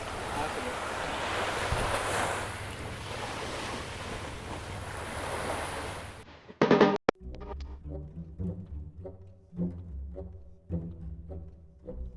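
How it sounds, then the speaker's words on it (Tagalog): Steady crashing surf at Tali Beach, Nasugbu, Batangas fills the first half, loud and continuous, then cuts abruptly to quieter sounds with voices talking. "Ang alon"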